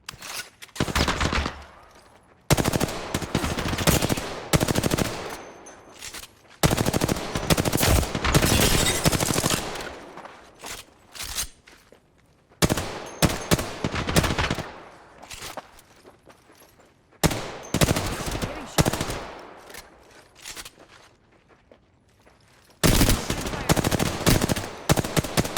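Loud video game shooter gunfire in repeated short automatic bursts, each fired as a quarter of a magazine, separated by brief gaps.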